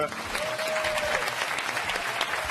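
Studio audience of a French TV game show clapping for a guest, a dense, lively round of applause throughout the short stretch with faint voices mixed in underneath.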